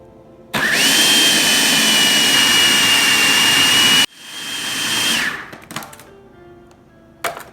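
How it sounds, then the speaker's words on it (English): Electric mixer creaming butter and sugar for keto sugar cookies: a loud, steady motor whir starts abruptly, cuts off, then runs again briefly before a few clattering knocks. "now I'm going to go ahead and cream my butter and sugar"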